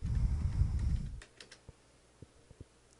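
A few keystrokes tapped on a computer keyboard, sparse separate clicks after a short burst of low rumble, quiet and close.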